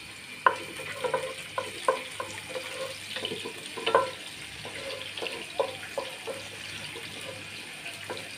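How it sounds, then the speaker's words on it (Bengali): Chopped onions frying in a pan and being stirred, a continuous sizzle with regular scraping spatula strokes and clinks, close and steady throughout. "আমি পেঁয়াজ কুচিটা একটু লাল করে নিচ্ছি"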